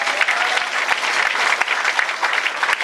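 A church congregation claps for the Lord in dense, loud, continuous applause, many hands close and sustained from start to finish.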